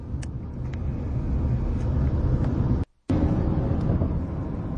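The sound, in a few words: car driving past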